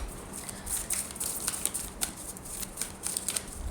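A deck of oracle cards being shuffled by hand, with quick papery riffles and soft flicks in uneven bursts, close and fairly quiet in a still room.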